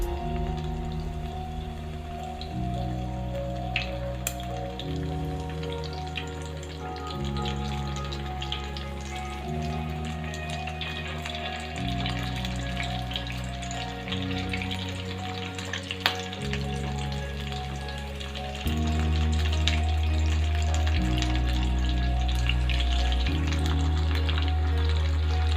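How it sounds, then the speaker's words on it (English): Corn and paneer kebabs frying in a pan give a steady, close sizzle and crackle of hot oil that runs unbroken throughout, growing louder toward the end, with a low cooking-music drone underneath and no talk. "Fry until they become golden brown in color."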